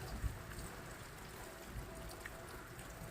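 Heavy rain pours down with wind during a thunderstorm, making a steady, soft, distant hiss with a few dull thumps, heard quietly without clear talk.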